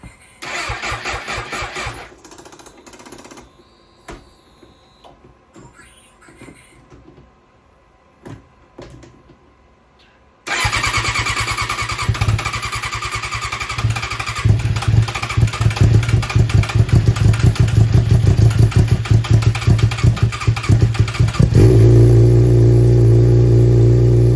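A cheap used Suzuki GSX-R motorcycle with battery trouble cranks in several stuttering starter attempts, then catches and bursts into a loud, steady close idle that settles into a lower, rough rumble.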